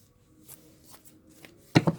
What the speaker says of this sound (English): give these another shuffle